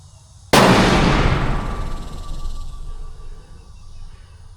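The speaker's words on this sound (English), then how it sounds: "Last shot on this 3-shot group." A single sharp rifle gunshot bursts out loud and close, the last shot of a three-shot group, trailing into a long rolling echo that fades over a few seconds.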